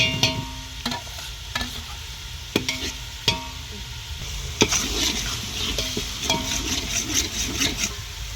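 Onion frying with ginger garlic paste in hot oil for mutton biryani on a wood-fired stove, with repeated sharp clacks and scrapes of a spoon stirring against the pot over a constant sizzle, close and fairly loud, no speech.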